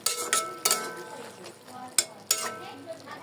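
A spoon stirs and scrapes through a pot of drumstick and potato chochchori as mustard and poppy seed paste is mixed in, giving a few sharp metallic clinks over softer rubbing, close and moderately loud, with no talking.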